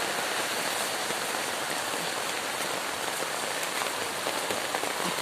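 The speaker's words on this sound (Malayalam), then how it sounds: "നല്ലോണം മഴ വരുന്നുണ്ട്." Heavy monsoon rain pouring steadily onto surfaces along a flooded roadside, a dense, loud, unbroken hiss of drops with no voices.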